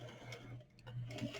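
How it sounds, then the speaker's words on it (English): A sewing machine stitches a bias bound seam, giving a soft, steady mechanical whir at low volume. "So I'm going to start stitching."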